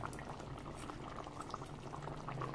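Steady bubbling and gentle sizzling as hot tempering is poured into a Kerala-style prawn curry, a continuous low crackle of liquid with no voices.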